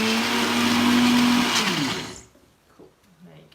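A blender whirs loudly and steadily as it purées a homemade hair mask, holding a sustained motor whine for about two seconds before cutting off abruptly, followed by quiet handling sounds.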